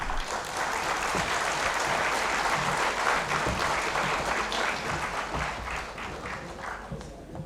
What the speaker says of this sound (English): May I request you to welcome them with a warm round of applause